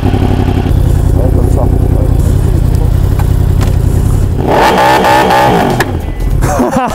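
A 2021 Yamaha R1M with a full Akrapovic exhaust system revs hard on launch control, a loud, close engine drone climbing in pitch toward the end, with people talking over it.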